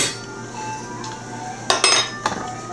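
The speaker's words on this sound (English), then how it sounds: "Then we mix that up." A spoon clinks and scrapes against a bowl while mixing a relish-based burger spread, starting quiet and then giving several sharp close knocks toward the end.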